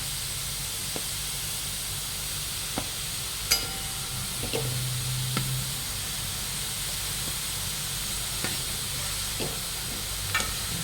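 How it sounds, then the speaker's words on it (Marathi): Grated fresh coconut and jaggery stirred in a pan over medium flame give a steady sizzling hiss, with occasional spoon scrapes and taps against the pan. "हे मिडियम गॅसवर आपल्याला सगळं मिक्स करून घ्यायचं म्हणजे गुळ वितळला पाहिजे आणि खोबऱ्यातलं पाणीही जायला पाहिजे"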